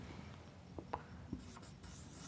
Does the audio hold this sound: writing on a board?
yes